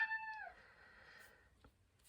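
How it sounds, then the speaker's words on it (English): A single quiet cat meow or whine sounds close by, a drawn-out tonal cry that falls off at the end, followed by faint room noise. "Sorry about my cat whining in the background."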